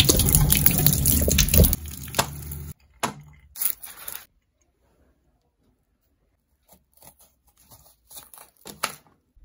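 Dishes washed in hot water under a running kitchen tap, a close gushing splash that cuts off after a few seconds, followed by faint scattered clinks and handling sounds in near quiet.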